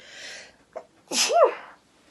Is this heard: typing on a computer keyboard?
no